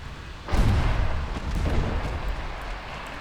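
A torpedo strikes a ship's hull in Ultimate Admirals: Dreadnoughts, a sudden loud deep boom followed by a long rumbling, roaring decay of water and hull noise, alone without talk.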